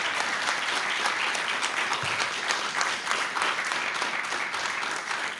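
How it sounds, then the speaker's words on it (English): Sustained, dense applause from a luncheon audience at the National Press Club for guest speaker Congressman Ron Paul, steady and full throughout with no break. "How about a round of applause for our guest speaker today?"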